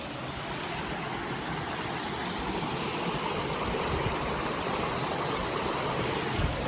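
A mountain stream on the Appalachian Trail in New Hampshire or Maine, swollen into a full river by heavy overnight rain, rushes with a loud, dense, continuous roar that stays steady throughout, with no voices.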